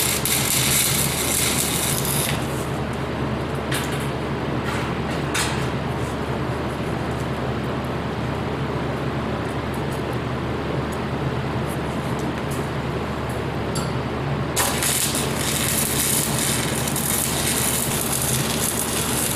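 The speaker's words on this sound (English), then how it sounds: "I'm going to go ahead and finish welding this on." Steady, crackling welding hiss runs almost continuously while a bee loader is welded together on a shop table, its brightness dipping for a long stretch mid-way before sharpening again.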